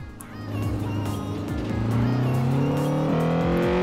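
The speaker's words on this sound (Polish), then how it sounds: "musimy od niskich obrotów startować, żeby to było ładnie słychać" A car engine with VTEC revs upward from low rpm in the racing game Forza Horizon 4, its rising harmonic tone climbing steadily and loudly over about four seconds with brief gear-like steps.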